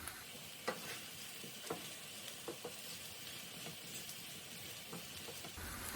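Rice is stirred and mixed in a hot pan over high heat, a soft continuous sizzle punctuated by scraping and light spatula knocks at an irregular pace, close and fairly quiet.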